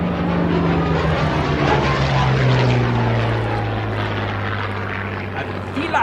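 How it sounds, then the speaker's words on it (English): A Corsair and a Tomahawk, World War II propeller fighters, fly at Duxford with a steady loud droning engine roar and a strong low propeller hum that dips slightly in pitch as they pass. "here come the Corsair and the Tomahawk"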